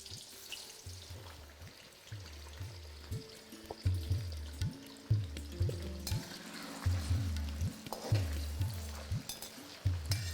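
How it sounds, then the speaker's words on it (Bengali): Potatoes frying in hot mustard oil in a wok, a steady close sizzle with regular rhythmic scraping or stirring pulses throughout and a few louder clatters. "তেলটা একবার ভালো করে গরম হয়ে গেলে আমি এখানে আলুগুলোকে প্রথমে ভেজে নেব।"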